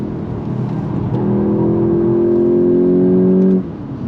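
A 2025 VW GTI Mk8.5 front-wheel-drive hot hatch engine pulling hard, a loud close droning rev that climbs steadily for a few seconds then cuts off abruptly.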